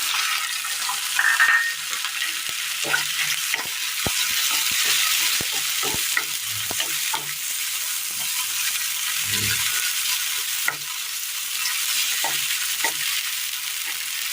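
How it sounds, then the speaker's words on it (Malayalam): Tomatoes fry in oil in a pan for a Kerala curry, giving a steady close sizzle throughout with occasional scraping and clinking from stirring, and no talking. "പാനിലേക്ക് എണ്ണ ഒഴിച്ചു കൊടുക്കാം തക്കാളി ഇട്ട് കൊടുക്കാം"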